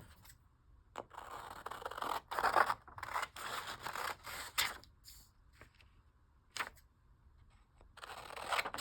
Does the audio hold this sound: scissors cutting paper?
yes